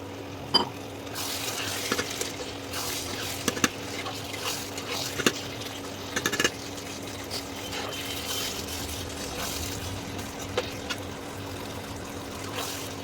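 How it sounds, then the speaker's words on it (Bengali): Mutton simmers and is stirred in a pan with stock, giving a soft continuous sizzle and bubbling with occasional scrapes and clinks of the spoon against the pan, fairly close and steady throughout. "স্টকটা দিয়ে আবার কষা করতে দিচ্ছি।"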